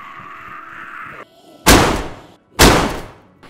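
Two heavy gunshots in the survival video game DayZ, each a sharp loud blast with a decaying tail, about a second apart, following a quieter steady ambient hum.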